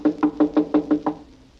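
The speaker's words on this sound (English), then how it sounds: "His door's closed. We better knock." Seven evenly spaced knocks on a closed office door, crisp and close, with a slight ring after each rap, staged as a radio drama sound effect with no voices.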